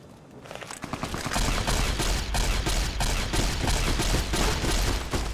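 Rapid gunfire in the video game Fallout: New Vegas: dense, sustained bursts of shots that build up after the first second, then stay loud and continuous.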